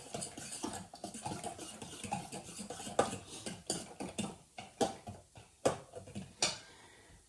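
Bacon is stirred in a bowl for a breakfast omelette, a utensil scraping and knocking against the dish in a series of uneven clinks and clacks that grow sharper and more rhythmic, fairly close and with no talking.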